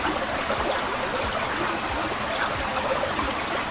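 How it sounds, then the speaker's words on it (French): Steady broadband flow of river water running continuously, with no distinct lapping strokes standing out, even and close throughout. "le soir même, le lapin se rend à la rivière pour lamper sans vergogne"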